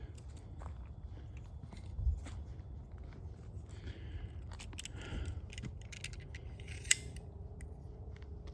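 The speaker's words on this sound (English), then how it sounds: "I am literally pulling a knife out to cut his web." A knife cuts through a spider web in a dark video game, giving faint snipping and scraping crunches at scattered moments over a steady low rumble of ambience.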